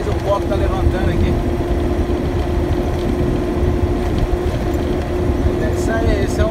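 A truck rolls along a dusty stretch of the Trans-Amazonian highway, a loud steady engine drone and road rumble heard from inside a moving Fiat/FNM truck, with talk over it.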